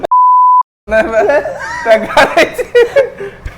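A single sharp censor beep tone, then people chuckling and laughing together with talk mixed in.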